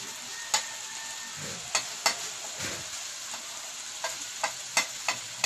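Chicken karahi with ground garam masala, black pepper and dried coriander fries in a pan, giving a soft steady sizzle broken by scattered sharp scrapes and clinks of stirring.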